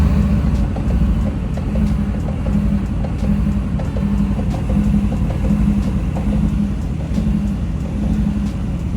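Mercedes-AMG GT S engine with a fault, running with a steady low rumble that pulses and surges in a regular rhythm, close and loud without a break.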